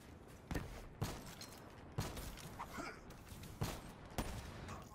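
Gunfire in a 1v1 shooting video game: five sharp, evenly spaced shots roughly a second apart over a low background noise, with no talk.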